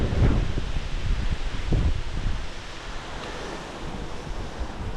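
Strong wind buffeting the microphone during a bike-packing ride along a highway, a loud continuous roar with gusty low rumbles that ease slightly toward the end.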